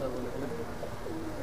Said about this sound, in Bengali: এই কবুতরগুলো ভিউয়ার্স আমি আপনাদের দেখাচ্ছি, আপনারা দেখেন।